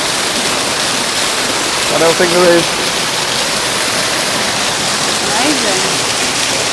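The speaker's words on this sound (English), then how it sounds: "Well, here we are at the waterfall." Waterfall inside Harrison's Cave in Barbados, a steady broadband roar of falling water filling the cave throughout, with people talking briefly over it.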